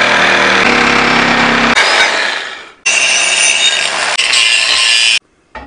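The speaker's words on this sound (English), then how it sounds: "So I'm going to use this old winch plate and cut it down here." A power tool cuts down an old steel winch plate, making a loud, steady rasping whine in two long passes separated by a brief drop-off, then stopping abruptly.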